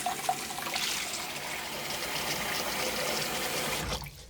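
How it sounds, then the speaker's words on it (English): Tap water runs steadily into a sink basin during a wet shave, a continuous close splashing hiss that cuts off abruptly near the end. "Makes a lot of noise on camera having running water as well"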